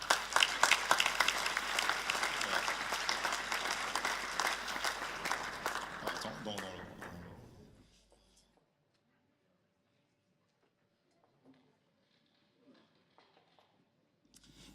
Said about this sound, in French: Elles méritent tous nos applaudissements.